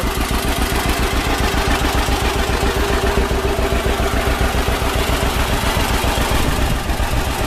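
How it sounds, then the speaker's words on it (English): A restored John Deere 620 tractor with factory front weight idles close by, its engine thumping in a steady, even, loud rhythm throughout, with no voices. "This is a John Deere 620."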